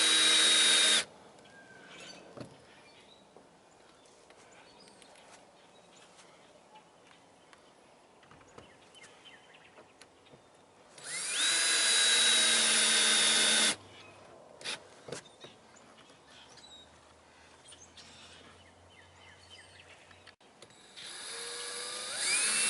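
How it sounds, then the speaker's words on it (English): A power drill bores a mounting hole for an electric dog fence energizer, whining loud and close in two bursts of a few seconds each, with a later shorter burst and quiet handling noise between. "Make sure that the hole that you drill to mount the Energizer on is big enough"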